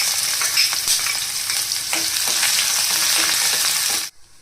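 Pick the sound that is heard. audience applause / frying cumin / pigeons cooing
frying cumin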